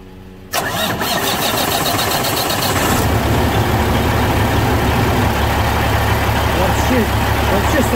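A truck with a Cat 15 engine cranks and fires after a brief quiet start, then settles into a loud, steady, rumbling idle that runs to the end.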